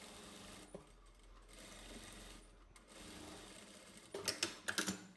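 A sewing machine runs a topstitch seam along the collar of a lined overcoat. The start is quiet, and a burst of rapid, close mechanical stitching follows near the end.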